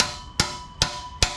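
Three sharp metallic smacks land about 0.4 seconds apart as an exhaust pipe is knocked into place during a Pypes exhaust install on a 1972 Dodge Challenger, each hit loud and close against a faint steady hum.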